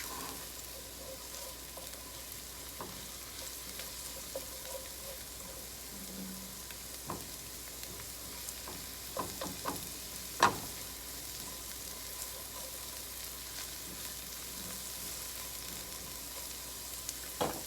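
Vegetables sizzle quietly in a frying pan, a soft steady crackle with a few scattered pops and clinks.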